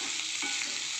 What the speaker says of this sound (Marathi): आपल्याला आता सर्व बटाट्यांना परतून घ्यायचं